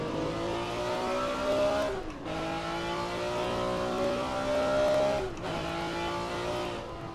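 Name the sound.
race car engine accelerating in Assetto Corsa video game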